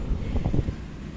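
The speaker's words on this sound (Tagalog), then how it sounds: "Wow, ang hangin." Strong wind blows at the top of a tower clock overlooking Manila, a steady loud rush buffeting the microphone with a faint voice briefly underneath.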